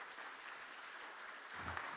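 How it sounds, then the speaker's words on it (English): A hall-of-fame induction ceremony crowd gives Raymond Bonner a round of applause, a soft, distant, even wash of many hands clapping that carries steadily through the brief moment. "give Raymond a nice round of applause"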